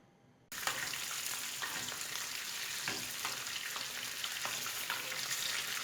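After a brief quiet start, a steady loud sizzle of peppers frying in a pan fills the rest, with occasional pops and crackles.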